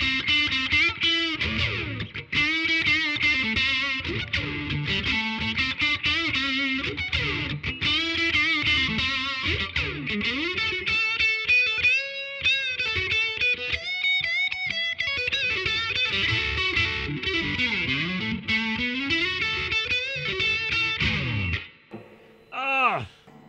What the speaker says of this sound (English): So I'm going to engage the second half of this pedal, which is going to give me more of an overdrive